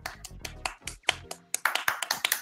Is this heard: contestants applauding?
yes